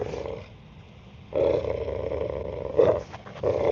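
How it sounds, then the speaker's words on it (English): A dog growls while playing tug with a rope, in low rumbling bursts that come and go with quieter pauses between, close and fairly loud, without any talk. "I'm not too sure if you can hear him growling"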